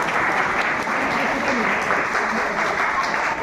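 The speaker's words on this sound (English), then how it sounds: "Can we have a huge round of applause?" Applause breaks out at an All India debate competition as the junior finals best speaker is announced, a loud, dense burst of clapping from a large audience that holds steady throughout, with some crowd voices mixed in.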